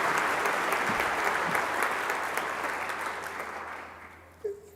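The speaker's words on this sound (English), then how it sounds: "Let's give a big round of applause for them." Steady applause for graduates fills a hall at an Oregon State engineering graduation ceremony, a dense, sustained clapping that slowly fades toward the end.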